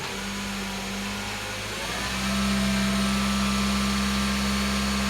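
A Peugeot VTi petrol engine idling, then revving up and holding a steady, loud raised drone with a strong low hum, close by and with no talk.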